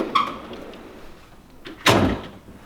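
A metal tool box drawer slides open with a quick, loud rolling rush, preceded by a few softer clicks and rattles in an otherwise quiet room.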